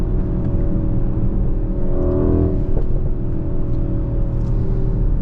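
A 2023 Mercedes-AMG GLE 63 S Coupé accelerates hard under kickdown in race mode, its engine a loud, steady roar heard close from inside the cabin, with a few faint crackles over it.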